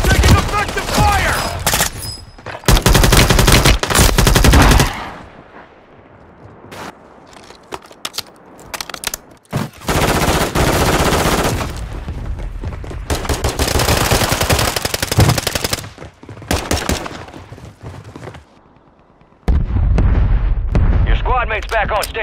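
Heavy automatic gunfire and explosions in a Call of Duty firefight come in long, loud, dense bursts separated by quieter gaps, with voices shouting amid the combat.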